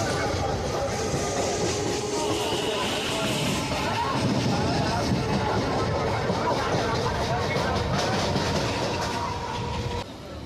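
A Sealdah to Barrackpore local train rumbles along steadily, with loud continuous wheel clatter and carriage noise throughout and a brief dip at the end.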